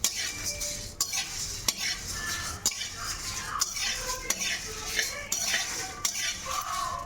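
Whole cardamom, cloves and cinnamon frying in a pan while a spoon stirs and scrapes, regular metallic knocks over a continuous close sizzle, with no voices.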